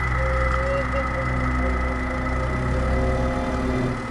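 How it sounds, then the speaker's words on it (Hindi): A steady low tractor engine drones throughout, a continuous loud rumble with a mid-pitched hum, as the tractor drives through a dark forest in an animated Hindi horror story. "और इसी अंधेरे में ट्रैक्टर जंगल के बीच से गुजरने लगा।"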